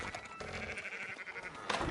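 Sheep bleating in Red Dead Redemption 2, a few wavering bleats close by over a dense background of other game sounds, with no talk.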